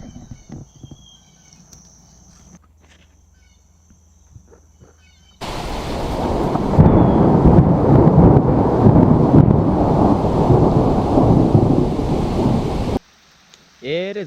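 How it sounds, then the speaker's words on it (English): A thunderstorm with rain breaks in suddenly outdoors in waterfall country after a quiet stretch: a loud, steady downpour with rumbling thunder roars for about eight seconds, then cuts off abruptly. "It is about to start raining."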